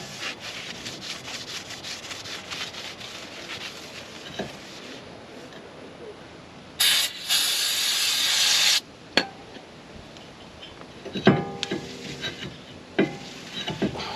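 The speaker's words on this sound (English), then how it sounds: "always use some brake cleaner so that you can clean off the surface and make sure you have no grease on there at all" Brake cleaner sprays onto new Powerstop Z26 brake rotors for a Pontiac G8 GT in one loud, steady two-second hiss, framed by rubbing and wiping noises and a few sharp clicks.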